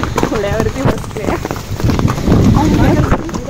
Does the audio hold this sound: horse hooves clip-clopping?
yes